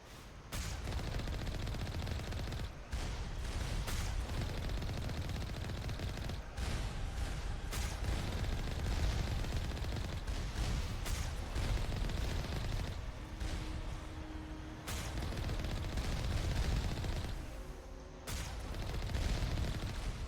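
Continuous heavy automatic turret fire in the sci-fi shooter Mass Effect 1, a dense rattling barrage that keeps going for about twenty seconds with brief gaps and booming impacts mixed in, loud and close, with no speech.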